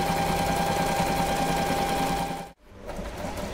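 A Singer Simple 3229/3223 sewing machine runs a straight stitch at stitch length two with a steady, fast whirring chatter. The sound cuts out abruptly near the end, then resumes briefly. It is close and loud, with no talk.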